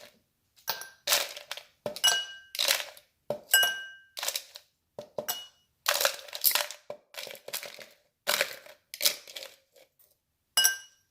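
Ice cubes drop into a mojito glass in a string of bright clinks and clatters, close up, each cube landing with a sharp knock and short glassy ring.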